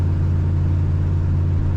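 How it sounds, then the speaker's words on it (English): A 1962 Ford Galaxie 500 Club Victoria runs on the road, its engine holding a smooth, steady, loud low hum with a constant rumble and no audible speech. "Engine purrs well."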